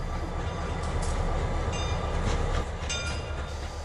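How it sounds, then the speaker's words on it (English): SD40-2 diesel locomotive number 425 rolls toward a station, double-heading an Autumn Leaf Excursion with a second SD40-2. A steady, loud rumble and rail noise hold throughout, with faint high clanks on top. "Everyone has their cameras ready as 425 comes towards the station"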